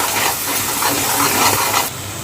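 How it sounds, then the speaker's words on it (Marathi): Spices fry in hot oil for a Maharashtrian fish curry, giving a loud, dense, close hiss that holds steady and then drops suddenly near the end, with no talking. "आता हे मसाले आपल्याला तेलामध्ये छान असे फ्राय करून घ्यायचे आहेत."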